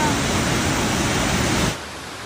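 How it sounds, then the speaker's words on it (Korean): Steady broadband rush of a waterfall in a quiet natural setting near Vancouver, Canada, loud and continuous before dropping to a softer wash near the end. "자연의 소리밖에 안 들려. 폭포 소리"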